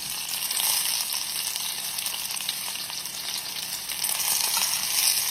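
Pot roast browning in a Dutch oven, a steady, bright sizzle of meat searing in hot fat, fairly quiet and close, with no talking.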